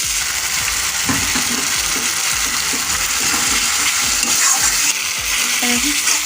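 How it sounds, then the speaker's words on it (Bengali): Spices cooked down with spice water in a pan for an egg and spinach dish give a steady, close frying sizzle with intermittent scraping and stirring clicks throughout, with no one talking. "মশলার জলটা দিয়ে আমি এবার একটু কষে নেবো ভালো করে"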